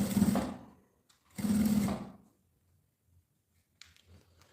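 Two short bursts of a sewing machine come close up as it stitches bias binding onto fabric. They are followed by near silence and a faint handling sound.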